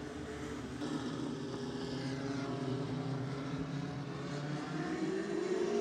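ACT race cars racing at Twin State Speedway in Claremont, New Hampshire, with a continuous loud engine drone that rises in pitch toward the end.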